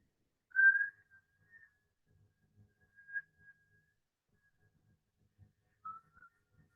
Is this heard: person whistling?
yes